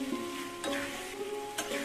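Fried potatoes stirred into a simmering spiced mixture in a pan for aloo dum give a quiet sizzle with a couple of soft scraping stirs, close by and with no voices.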